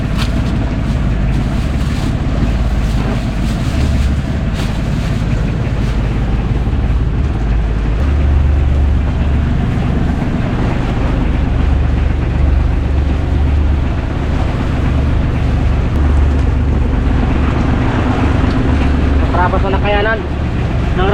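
Motor boat engine droning steadily on open water, loud and close, mixed with wind and wave wash for the whole stretch, with voices talking faintly underneath.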